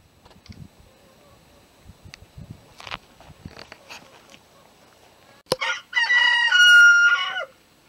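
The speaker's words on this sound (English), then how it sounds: "Those chickens are pretty loud sometimes, aren't they?" On a farm with tiny horses, chickens cluck in scattered soft bursts among small shuffling noises, then a rooster crows loudly and close in one long drawn-out call.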